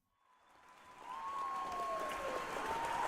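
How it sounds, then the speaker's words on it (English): A crowd cheers and applauds as someone nears a stage, the roar swelling from near silence to a loud, sustained wash over three seconds. "That sounds like cheering!"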